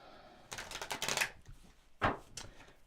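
A deck of cards shuffled by hand, a quick riffle of crisp fluttering snaps followed by a second shorter burst, close and fairly quiet with no voices.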